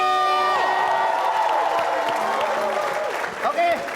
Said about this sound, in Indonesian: tepuk tangan buat Jody